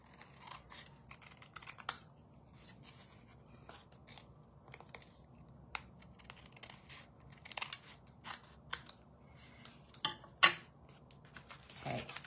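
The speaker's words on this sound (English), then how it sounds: "We're going to flip this over. We'll trim off the excess." Scissors trim excess paper from a handmade greeting card, a run of soft snips and crisp cuts with a few sharper clicks, close and quiet, with no talking.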